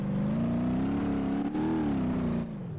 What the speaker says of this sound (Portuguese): Realmente acelera muito rápido.